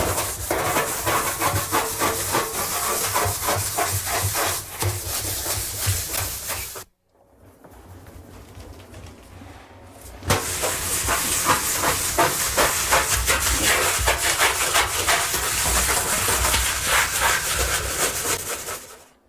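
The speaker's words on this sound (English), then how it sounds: "Now let's scrub." A tile brush scrubs a bathtub coated in Comet cleanser, a steady loud rasping hiss running continuously, dropping out briefly for a few seconds midway before resuming just as strongly.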